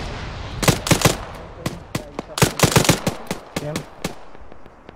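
Enemy gunfire in the military video game Arma, sharp bursts of automatic shots in uneven clusters, some loud and close, others fainter, with brief talk between volleys.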